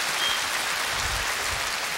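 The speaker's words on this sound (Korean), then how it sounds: "박수 주시기 바랍니다" An audience at a TV singing contest, KBS's Korean national song festival, breaks into applause, a dense, steady clatter of many hands clapping.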